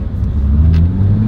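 A car engine revs with a deep, throaty exhaust rumble, loud and close, holding a steady growl with a slight rise in pitch.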